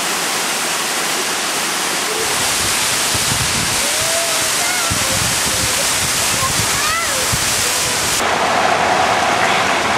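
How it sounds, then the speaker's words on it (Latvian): A large waterfall roars as a dense, steady broadband rush, loud and close for the whole stretch, with a voice briefly audible over the spray. "Toties ir ļoti skaists un liels ūdens kritums."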